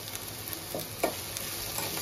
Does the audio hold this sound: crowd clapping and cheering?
no